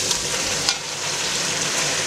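Diced potatoes tipped into a pan of soft frying onions for kuyrdak, a Central Asian meat-and-potato dish, giving a steady close sizzle and crackle of hot oil throughout.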